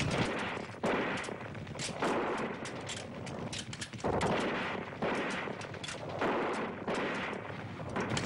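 Battle gunfire in a dubbed Turkish film: sustained rattling volleys and bursts of shots, loud and dense, swelling in repeated waves across the scene with no talk over it.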